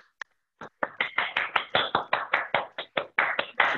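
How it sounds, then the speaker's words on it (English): A small audience at a fellowship project showcase starts clapping, a few scattered claps growing into steady applause of many hands, close and fairly loud. "everybody clap"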